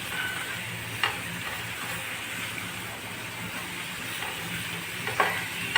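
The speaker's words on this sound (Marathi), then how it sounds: "आता छान परतून झाले आता आपण दोडका टाकूया आणि हलवून घ्या घ्यायचं" Ridge gourd stirred and sautéed in a pan gives a steady close sizzle and hiss, broken by a few brief scrapes of the spatula against the pan, with no voices.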